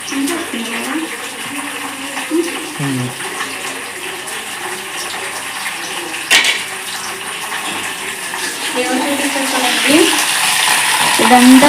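Herbal leaves and flowers frying in oil for a homemade hair oil, a steady close crackle and hiss that runs throughout and slowly grows louder, with occasional stirring scrapes.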